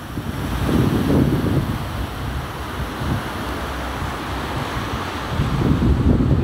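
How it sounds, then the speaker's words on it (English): Ocean surf rolls steadily onto Pattaya Beach in Thailand at sunset, with wind buffeting the microphone and surges of breaking waves at the start and the end. "Sunset, Pattaya Beach,"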